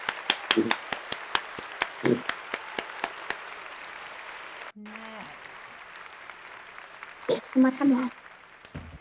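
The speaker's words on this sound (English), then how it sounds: "A round of applause for Ingrid." Brisk applause at a song competition finale with sharp individual claps, a short pause, then a few whoops and cheers as clapping picks up again.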